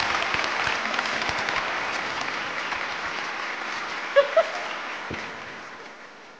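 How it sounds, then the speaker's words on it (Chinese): Studio audience applause on a television job-interview show, a dense, steady wash of clapping that fills the whole stretch at even loudness, with a couple of brief sharper sounds near the end. "我觉得应该给掌声鼓励一下，"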